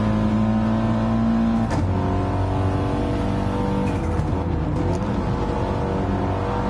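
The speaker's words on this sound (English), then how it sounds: "2nd gear, then we've got hard onto the power once more, getting a little bit closer to Chris." A race car engine in a racing video game revs steadily and loudly, holding a dense drone with brief gear-change dips and renewed acceleration, with no voices over it.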